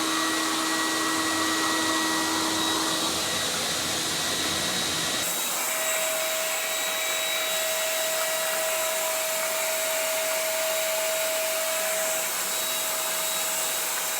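A SD15 Sump Shark pump converted to battery power runs steadily near the microphone, a continuous motor whine with broadband rushing noise, changing pitch partway through and then holding a steady tone to the end.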